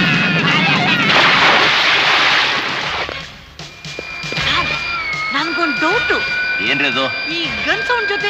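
Gunfire sound effect from a Kannada action film, starting with a loud sustained roar of shots, then sharp scattered bangs continuing under wailing, cat-like tonal cries.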